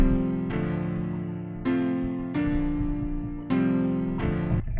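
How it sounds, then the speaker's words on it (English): A melodic music sample in FL Studio transposed down seven semitones without changing tempo, with deep sustained chords that restart every second or so, steady and moderately loud throughout. "If I pitch it down, let's say 700 cents,"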